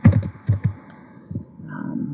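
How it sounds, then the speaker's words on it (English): Computer keyboard keys clicking as a word is typed, a quick run of close, crisp taps followed by a few softer scattered keystrokes against a quiet room background. "We're going to type the word introduction."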